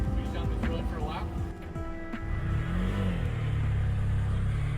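A tuk-tuk driving along a road in Sri Lanka, its small engine droning and rising in pitch as it pulls away, with a person talking over the motor.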